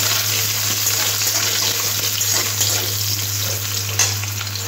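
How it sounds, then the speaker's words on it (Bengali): Potato frying in oil with five-spice seeds and a dried chilli gives a steady, close, continuous sizzle with a faint constant hum beneath it. "আলুটা খুব ভালো করে একটু ভেজে নেব।"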